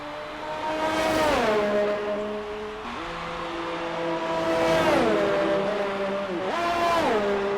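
A race car in a racing video game at Bahrain, engine pitch climbing and dropping as it brakes and accelerates through corners, three clear rising and falling sweeps, loud and close with no talk.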